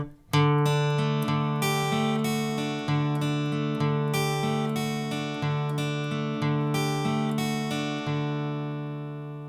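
Guitar strumming simple open chords to mimic a song's riff, a steady run of ringing plucked notes over sustained chords, close and alone with no talking.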